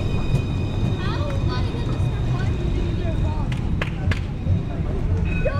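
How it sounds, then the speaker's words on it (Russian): A Luas tram pulls into a stop in Dublin, a loud rumbling approach with a high electric whine and squealing tones, while someone talks nearby. "Так, наш Луас прибыл."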